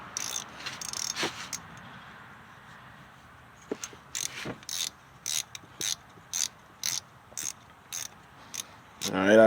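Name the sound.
tightening a spark plug on a 2000 Acura 3.5 RL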